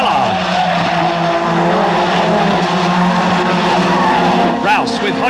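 Ford Sierra touring cars racing through a chicane in the 1989 British Touring Car Championship: loud continuous engine roar with shifting pitch and a brief tire squeal, under a commentator's voice.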